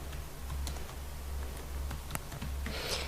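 Quiet computer keyboard typing as a name is entered into a spreadsheet-style cell, a few soft, irregular key clicks over a low steady hum.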